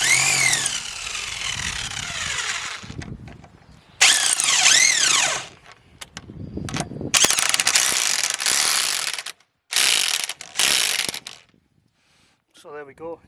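A Parkside corded impact wrench spins car lug nuts off in several loud, rattling bursts of hammering whine separated by short pauses, close up, with brief clicks near the end.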